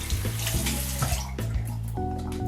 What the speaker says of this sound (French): il faudra bien rincer votre douche parce que les petits grains restent bien présents